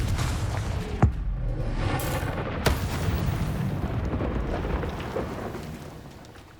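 Confringo fire spell blasts from the Hogwarts Legacy video game: two sharp booming bursts about a second and a half apart, ringing over a steady rumbling game background with no talking.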